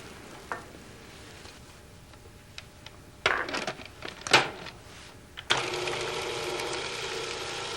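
A Cuisinart food processor with its metal blade mincing parsley, heard as scattered chopping taps and short bursts, then a steady loud whirring run of the motor and blade near the end.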